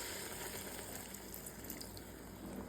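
Tender coconut water pours into a prawn curry, a steady continuous watery gush filling the pan, close and unbroken throughout with no voices.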